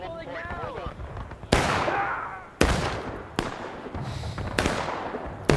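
Cannon shots from a nine-man Civil War artillery crew in War of Rights ring out as four loud, sharp blasts. Each one echoes into a rumbling tail, and the first is preceded by faint distant activity.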